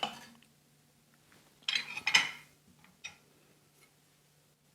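Minestrone soup is ladled into a bowl with a few clinks and scrapes of a ladle against pot and dish, short clustered knocks separated by quiet gaps, with no voices.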